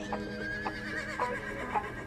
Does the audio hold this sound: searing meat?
no